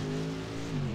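A 3-cylinder Mini Cooper racing car engine in a sim racing game drones with a steady harmonic whine, holding pitch and then dipping slightly as if easing off, close and continuous.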